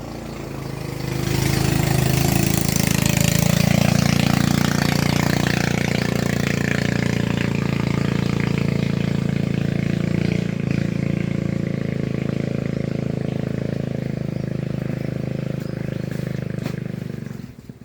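A boat's engine runs past on a canal beside a large coconut plantation. The steady drone swells in, holds loud and close for several seconds, then slowly fades.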